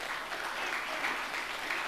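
Applause from a church congregation after a sermon, a steady wash of many hands clapping at moderate volume that holds evenly throughout without clear speech on top.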